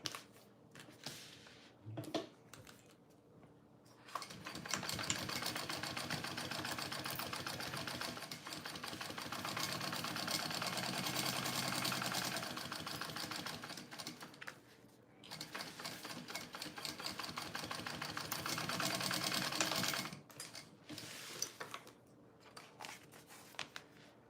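A sewing machine bastes a slip pocket onto a small bowler bag, running in a steady, close mechanical whir for about fifteen seconds with a short pause partway through, framed by quiet handling noises.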